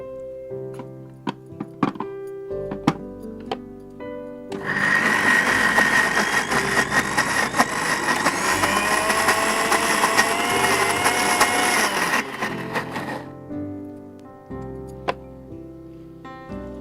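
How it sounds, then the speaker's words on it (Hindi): After some faint clattering, an electric mixer grinder starts up with a loud whirring grind for several seconds, puréeing cooked dal, then stops, followed by light kitchen clinks. "हमें इसे या तो हैंड ब्लेंडर से या मिक्सी के जार में डालकर आप इसे पीस लीजिए।"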